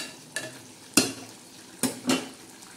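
A spoon stirs chakki cooking in a pan, making a few distinct scraping clinks spaced apart over a quiet, faint simmer.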